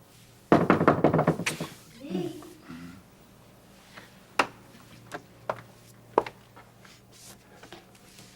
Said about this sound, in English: while you're knocking on the door